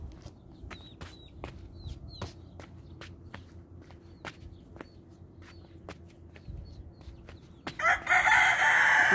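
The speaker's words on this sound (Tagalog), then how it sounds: "Yan, itim na manok." A black chicken and other hens at a Filipino backyard coop crow and cluck in a series of sharp, repeated calls with footsteps between them, fairly close, ending in a louder burst of noise.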